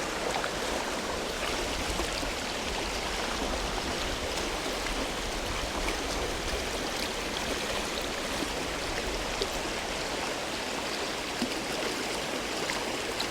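A river rushes steadily past while someone fly fishes for grayling, broadband water noise filling the scene close and loud, with no talking over it.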